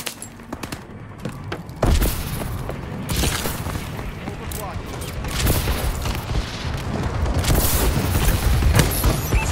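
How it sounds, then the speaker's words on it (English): Rumbling booms and thuds from a friendly bombing run in the Call of Duty: Advanced Warfare video game, continuous dense explosions with gunfire layered throughout, swelling louder toward the end, with radio voices talking over the battle. "Friendly bombing run clearing the way."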